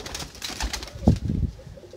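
Rare-breed Kamagar pigeons coo in a brief low, throaty burst near the middle, close and fairly loud, set against a soft background rustle with no talking.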